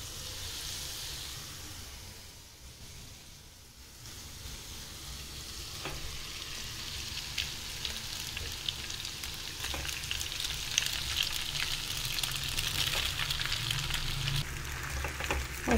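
Noodles frying and being stirred in a home kitchen pan after a pinch of salt goes in, a steady close sizzle with scraping stir strokes that picks up and grows brighter partway through, no voices.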